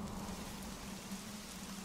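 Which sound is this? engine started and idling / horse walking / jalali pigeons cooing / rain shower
rain shower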